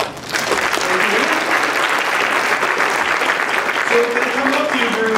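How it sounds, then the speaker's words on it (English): An audience at a conference intro breaks into applause that swells quickly and holds as a dense, steady clatter of many hands for several seconds, with faint voices mixed in. "Let's give a round of applause."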